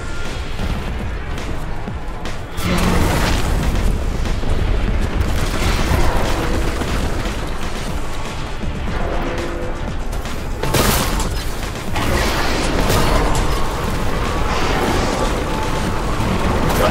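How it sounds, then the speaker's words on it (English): Heavy grav cannon blasts from the Warhammer 40k Boltgun video game, a dense, continuous barrage of booming explosions and crashing impacts filling the whole stretch, with sharper bursts near the start and middle. "So I just grav cannon the shit out of this man."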